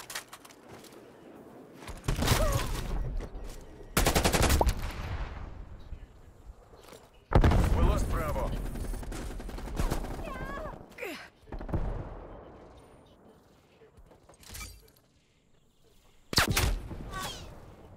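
Call of Duty: Black Ops Cold War multiplayer gunfire comes as several separate sharp bursts spaced seconds apart, with quieter gaps and some talking between shots.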